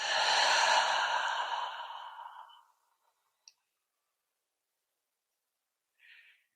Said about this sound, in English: Taking another nice deep breath. Exhaling through your mouth.